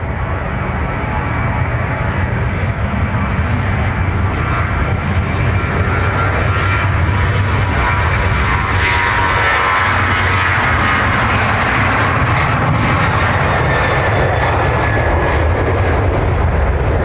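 Jet engines drone loud and steady as an aircraft lines up on runway 28 right at Dublin Airport, a continuous close roar with a slowly shifting whine and no voices.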